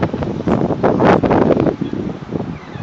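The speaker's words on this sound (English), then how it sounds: "it's starting to get some windy out here" Gusty wind buffets the microphone in rough, rising and falling rushes, loudest in the middle, with a rustle like leaves underneath.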